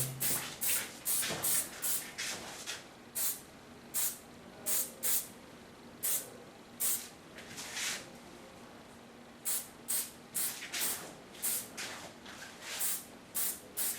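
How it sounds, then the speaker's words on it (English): Hairspray hisses from an aerosol can onto hair in short, evenly paced bursts, roughly a dozen or more close spritzes separated by brief pauses. "just finish it with a hairspray"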